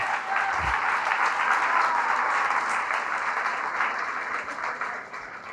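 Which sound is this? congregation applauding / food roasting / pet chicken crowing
congregation applauding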